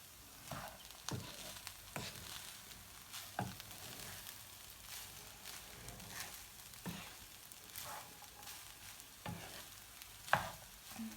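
A spoon stirs grape leaf roll filling in a pan, repeated scraping strokes at an uneven pace over a soft low sizzle, close and fairly quiet with no speech.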